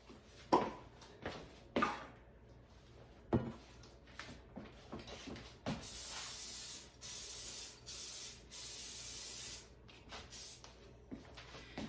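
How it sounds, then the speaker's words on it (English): Cooking spray hisses onto a banana bread baking pan in several short, steady bursts, close up, after some handling and rustling. "I'm going to spray this with some cooking spray"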